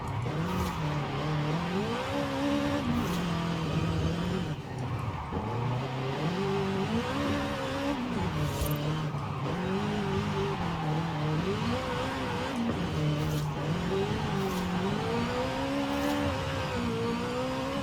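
A Subaru BRZ in Forza Horizon 5 drives with its engine rising and falling in steady revving sweeps, held close and loud throughout, with tire noise mixed in and no talking.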